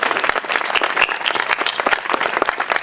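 Audience applause at the Lago Film Festival awards ceremony, a dense, steady burst of many hands clapping close and loud throughout, with no speech over it.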